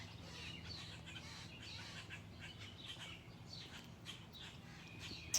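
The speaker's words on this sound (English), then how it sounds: "I've just been out here listening to the birds go at it." Birds call outdoors: faint, scattered chirps and tweets repeat over a quiet background hum, distant and unhurried.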